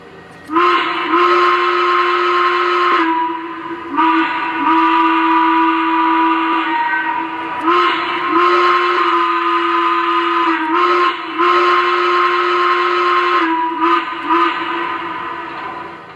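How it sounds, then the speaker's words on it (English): A Lionel N&W 2-8-8-2 Y3 model train steam whistle blows in several long, loud blasts with short gaps between them, its steady shrill tone sounding close, with no talking. "let's hear the whistle"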